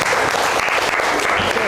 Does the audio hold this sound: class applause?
yes